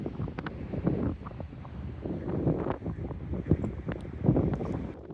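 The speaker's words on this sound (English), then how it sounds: "It's windy as heck." Strong storm wind batters a clifftop campsite, a rough gusty roar buffeting the microphone in uneven surges, with no clear speech.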